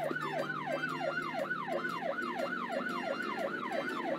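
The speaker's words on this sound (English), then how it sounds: "Police car." A rapid, warbling electronic siren loops over and over, thin and toylike, steady in volume with no voices.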